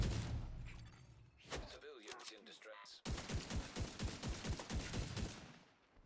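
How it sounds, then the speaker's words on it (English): Rapid bursts of SVD semi-automatic sniper rifle fire in The Division 2, a dense run of sharp, loud cracks in quick succession following a busier stretch of mixed game noise. "Just going to clear these ones with SVD"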